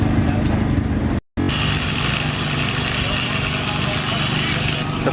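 An angle grinder works on metal at a railway level crossing before welding, a steady loud whine that runs almost throughout, cut off by one short silence near the start, with people talking under it.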